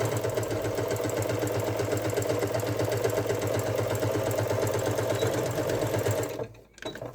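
A sewing machine stitching down the raw edge of a Christmas stocking tie with a 3/8 inch seam allowance runs loud and continuous with a fast, even mechanical pulse, stopping briefly near the end.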